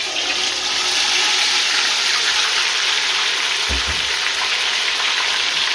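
Ginger and garlic sizzle in hot oil in a pan, a steady, even frying hiss held throughout, with one brief low thump partway through.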